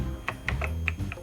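Computer keyboard typing while entering cell addresses in an OpenOffice Calc spreadsheet: about six distinct key clicks in an uneven rhythm, close and clear, over a faint low hum.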